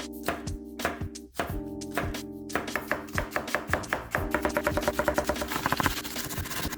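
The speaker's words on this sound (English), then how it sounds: "I'm slicing up 6 fresh spring onions" A knife cuts through six fresh spring onions on a board. The chops come in a steady rhythm, slow and spaced at first, then quicker and closer together. They sound close and crisp, with no talk.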